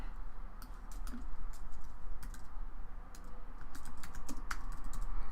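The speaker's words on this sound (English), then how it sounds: "Sorry, I'm just typing here." Quick bursts of clicking keystrokes on a computer keyboard, irregular and close, over a low background hum with no talking.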